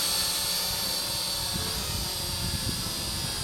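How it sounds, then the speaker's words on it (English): Goolsky SMRC S20, a budget RC drone, flies close by with a steady high-pitched whine and buzzing rotor hum that stays constant and fairly loud throughout, with no talking. "so let's just go ahead and do this drone flight"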